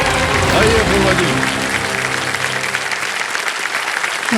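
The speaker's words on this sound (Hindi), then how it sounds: "तालियां बजती रहे" Studio audience applause on the quiz show Kaun Banega Crorepati, dense continuous clapping close up, with music playing beneath it at the start.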